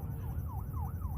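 An emergency siren wails in a steady rising-falling cycle, distant and faint beneath a low background rumble.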